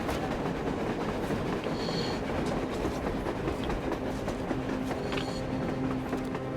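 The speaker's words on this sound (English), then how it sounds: "A train! A damn train on the surface!" A train running on the surface in the post-apocalyptic shooter Metro Exodus, a continuous rumbling roar with clattering wheels and faint metallic squeals, steady and fairly loud throughout with no voices.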